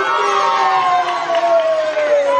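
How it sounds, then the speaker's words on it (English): A wrestling crowd cheers a new champion in a loud, sustained roar of massed voices, with a commentator talking over the noise. "The crowd is really on fire for the new champion"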